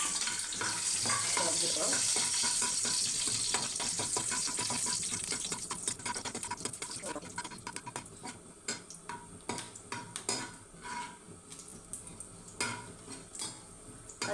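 Cashew nuts fry in a pan for ash gourd halwa, a loud, dense sizzle with stirring scrapes that thins into scattered ticks and pops, with a brief spoken word.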